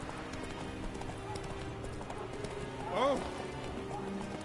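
Roach, the horse in The Witcher 3, gallops in a steady rapid clip-clop of hooves close by, with a man's brief exclamation partway through.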